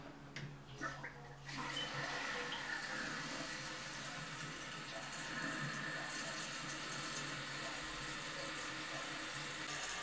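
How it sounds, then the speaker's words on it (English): Water rushing into a Kohler canister-style toilet tank as it refills after a flush valve seal replacement, a steady close hiss of running water continuing throughout with no speech. "holds water now, filling up just fine"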